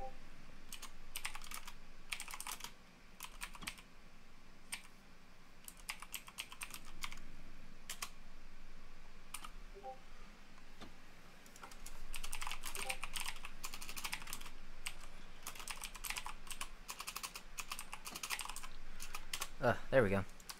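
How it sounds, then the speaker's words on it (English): A computer keyboard clatters in bursts of quick keystrokes during a Minecraft server session, close and fairly quiet, with pauses between runs and no talk. "Having some trouble typing here."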